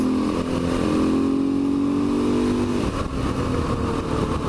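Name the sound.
motorcycle engine while riding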